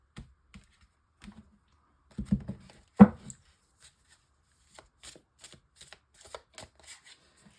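Golden tarot cards are shuffled and handled up close, producing sparse, quiet papery clicks and flicks, with a denser flurry of riffling and one sharper snap, then scattered light taps.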